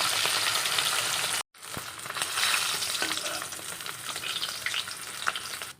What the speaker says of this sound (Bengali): এই মাছ ভাজার গন্ধকেই বোঝা যাচ্ছে একদম টাটকা মাছ